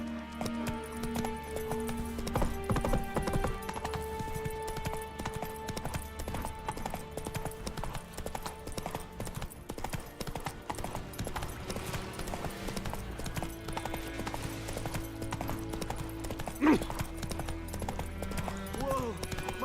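Hoofbeats of a horse galloping in The Witcher 3 video game, a steady clip-clop rhythm under dense game music and ambience, with a brief whinny-like accent and a voice speaking in places.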